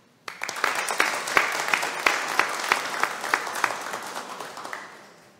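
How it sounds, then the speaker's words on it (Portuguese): Applause for honorees breaks out at a city council session, starting abruptly and holding as moderate clapping from a modest crowd, with sharp individual claps standing out before it fades away. "uma salva de palmas a todos os homenageados mencionados nas moções nesta noite"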